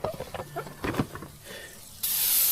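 A dollar-store pump sprayer releases a sudden steady hiss of spray near the end, after a few scattered quiet clicks and handling sounds.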